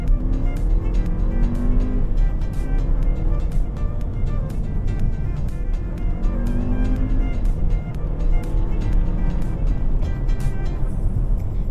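A 2018 VW Passat 1.8 TSI with a DSG gearbox accelerating gently, heard from inside the cabin as a steady low engine drone with road and tyre noise.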